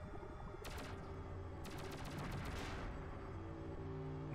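Rapid bursts of gunfire from the PlayStation game Shockwave Assault, two dense volleys of shots over a steady low game drone, fairly loud and with no talking.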